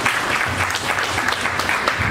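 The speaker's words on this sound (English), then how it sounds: "So please clap once for her." A crowd at an honours ceremony claps for a kathak dancer and world-record spinner, a dense, loud, continuous patter of many hands throughout.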